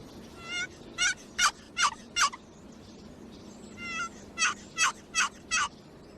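A wooden turkey box call imitates an excited wild turkey hen, a run of five loud, sharp shrieking yelps followed by a soft lead-in and four more, evenly spaced and close.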